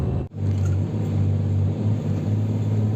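A Sany dumper truck's engine rumbles steadily and loudly as the truck turns, a deep continuous drone with a brief dip near the start.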